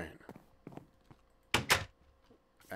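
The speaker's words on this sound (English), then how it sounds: "Close the door." A wooden door closing in the video game Minecraft, a short pair of sharp thunks near the middle, fairly close, amid faint game ambience.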